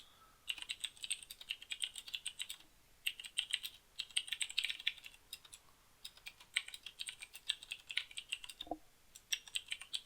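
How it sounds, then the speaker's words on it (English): Computer keyboard typed on while entering an invoice message, quick clattering bursts of keystrokes separated by short pauses, faint and close with no talk. "in the invoice message, I'm going to type my message"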